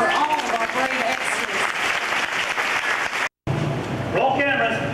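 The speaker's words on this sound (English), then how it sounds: "let's have a big round of applause for all of our great extras" Loud applause from a large outdoor audience at the Indiana Jones Epic Stunt Spectacular at Disney-MGM Studios in 1990, steady and dense, with voices mixed in, cutting out briefly near the end before resuming.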